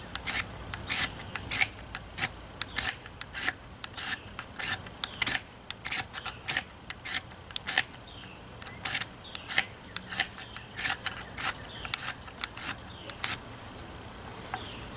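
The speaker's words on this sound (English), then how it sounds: "the way I'm scraping it really helps get a lot of that magnesium out of there" A blade scrapes a magnesium fire starter bar in a steady rhythm of about two dozen short, crisp rasping strokes, close and clear with no talking.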